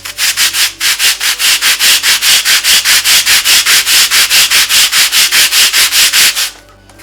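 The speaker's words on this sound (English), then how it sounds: "Just wrap some sandpaper around it, and now we're just going to sand this down so it's the same shape" Sandpaper wrapped around a block is rubbed by hand over wood in a rapid, even back-and-forth rhythm of about thirty close, loud rasping strokes before stopping.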